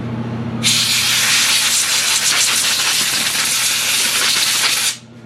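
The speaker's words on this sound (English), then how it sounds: "Now I got my blower. Close your ears." Compressed-air blower used while working under a 2011 Duramax LML pickup on the reductant tank, a loud steady hissing blast starting abruptly and running about four seconds before cutting off, close and alone.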